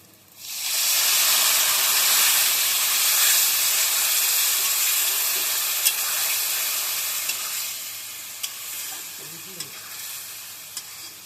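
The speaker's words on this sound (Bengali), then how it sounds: "এবার দিয়ে দেবো লঙ্কা বাটা, আদা বাটা আর পেঁয়াজ বাটা" Potatoes fry in a pan as chili, ginger and onion paste goes in, setting off a loud, close, sustained sizzle that starts suddenly, then slowly fades, with occasional spoon clicks and stirring toward the end.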